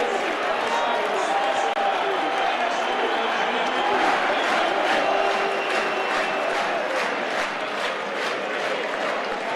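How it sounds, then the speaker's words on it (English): Rugby league crowd at Warrington v Wigan, a loud, steady roar of voices and cheering that fills the stadium and holds throughout with no clear break. "Chris Bridge waiting for the crowd noise to die down"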